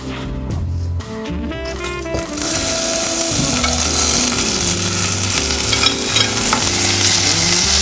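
Chopped onion, softened first in a microwave, hits a hot casserole pan and sizzles loudly while being stirred to caramelize. A steady, dense frying hiss fills the clip, with scraping stir sounds and no talking.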